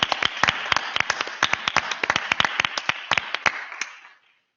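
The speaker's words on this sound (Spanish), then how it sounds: "me gustaría que les aplaudiéramos todos ahora" Audience applause at the closing session of a science and gender conference, a few seconds of dense, lively hand clapping from a room of people that fades out at the end.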